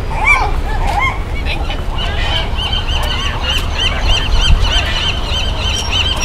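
Nesting seabirds calling on the west side of Alcatraz in spring, a dense chorus of honking, squawking cries over steady wind and surf noise, loud and continuous.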